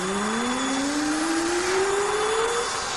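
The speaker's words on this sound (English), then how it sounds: "It's the vacuum cleaner." A vacuum cleaner runs steadily with a loud, constant whine whose pitch climbs slowly, as in a cartoon story, broadband hiss beneath, no speech.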